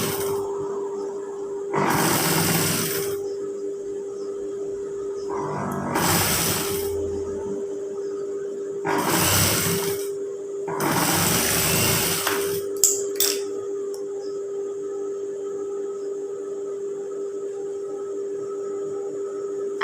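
A sewing machine stitches a hidden zipper onto striped fabric in several loud bursts of a few seconds each, separated by pauses filled with a steady low hum and faint handling clicks, close by with no talk.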